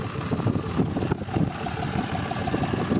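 A tractor engine idles close by while potatoes are dug, a steady low rumbling chug with a slightly knocking rhythm that holds throughout with no voices.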